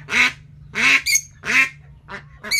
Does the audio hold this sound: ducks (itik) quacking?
yes